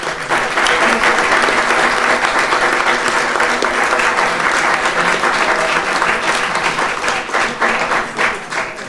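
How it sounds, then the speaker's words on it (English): Loud, sustained applause from the audience at the 2013 Westlake Village City Council candidates forum, honoring the candidates. The dense clapping fills the room steadily for about nine seconds and tapers slightly at the end. "how about a round of applause for the candidates?"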